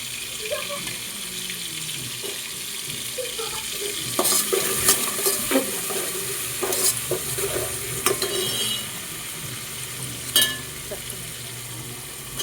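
Green chilies and spices sizzle steadily in hot oil, with intermittent stirring clatters and scrapes of a utensil against the pan throughout.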